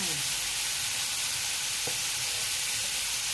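Minced pork stir-fried with cucumber and basil in a pan, a steady loud sizzle and crackle running through the whole stretch with a few faint scrapes of stirring.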